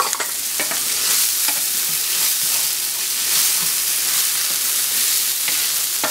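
Chopped shallot and a whole green onion, white and green parts, fry in a hot pan, giving a loud, steady sizzle with occasional stirring scrapes throughout, and no voices.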